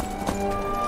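Horse in the Skyrim video game making a brief clip-clop of hooves, a short near sound over a steady background.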